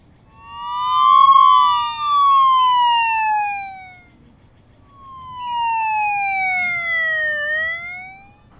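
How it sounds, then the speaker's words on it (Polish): An ambulance siren in a Polish children's cartoon gives two long descending-then-rising wails separated by a short gap, loud and clear with no talking. "A to jest karetka."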